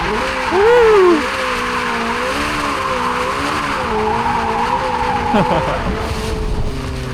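Hyundai RN24, a small, light 650-horsepower electric car, drifts with loud, sustained tire squeal over a rising and falling electric motor whine, close and continuous throughout.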